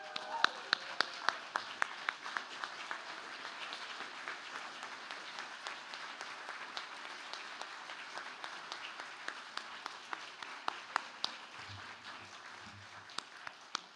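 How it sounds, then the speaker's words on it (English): Audience at an honors college graduation celebration rises and applauds the graduates, a steady wash of many hands clapping with individual sharp claps standing out, somewhat distant and sustained for the whole stretch. "please rise and give them a big round of applause of congratulations"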